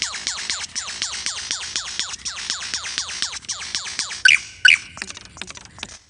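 A superb lyrebird of Australia imitates a chainsaw with a rapid, rhythmic series of sharp buzzing, squeaky pulses that repeats steadily, then breaks into a few louder squeaks and clicks at the end.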